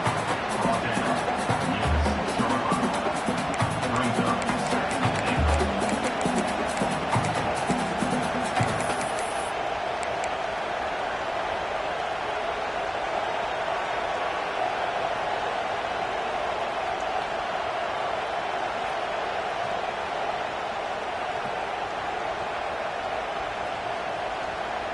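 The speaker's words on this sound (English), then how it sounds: "And the crowd really making some noise now, trying to help out this defense to get this stop near the goal line." Crowd noise from a Madden football video game on PS5 swells during a goal-line defensive stand, a dense broadband roar that is louder and busier for the first nine seconds, then settles into a steady, softer hum.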